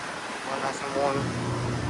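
Three Goodman GSZ14 heat pumps run outdoors on an 80° day, giving a steady whooshing fan and compressor hum. A person talks over it.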